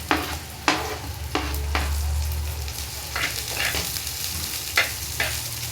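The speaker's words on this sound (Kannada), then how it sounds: "ಇವಾಗ ಈರುಳ್ಳಿ ಫ್ರೈ ಆಗಿದೆ" Finely chopped onions frying in a pan with chili, ginger and garlic for egg bhurji masala, a steady close sizzle broken by several sharp spatula scrapes and taps against the pan.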